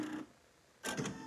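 A Brother PE 800 embroidery machine stitches a placement line for an in-the-hoop ornament, giving two short, close mechanical bursts separated by a brief quiet gap, with no talking.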